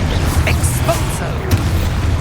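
An Expulso spell explosion in Hogwarts Legacy goes off as a deep, rumbling boom within a dense, loud game soundscape, with a sharp burst about midway, while a voice calls out over it.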